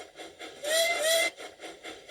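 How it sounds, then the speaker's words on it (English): Steam engine whistle from a railway engine on a main line, a short bright tone sounding twice in quick succession, moderately loud over a steady background of hiss and music. "Sonny whistled hello to every engine he passed on the main line, and they'd whistle back."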